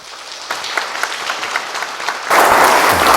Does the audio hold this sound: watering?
no